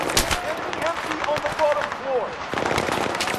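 Battlefield 3 shooter gunfire crackles in short, close bursts mixed with game ambience and a voice talking over the action.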